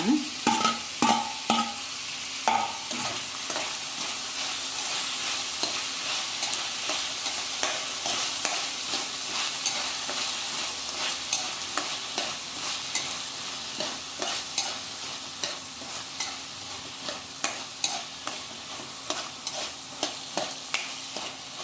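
Tomatoes are stirred into chicken pepper masala frying in a pan, giving a soft steady sizzle broken by repeated scraping and clinking strokes of the spoon, quiet and close, with no talking.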